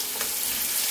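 Curry goat ingredients sizzle in a pot while being stirred, a brief, close, steady frying hiss with a faint scrape of the stir.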